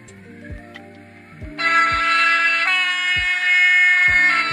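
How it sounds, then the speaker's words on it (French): A small electronic model train locomotive horn sounds a sustained two-tone blast over rhythmic clicking, with a low motor hum underneath. "On a le klaxon."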